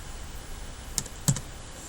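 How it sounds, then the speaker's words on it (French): Two quick, faint keystrokes on a computer keyboard, each a light click against a quiet background. "on appuie sur F4 une fois"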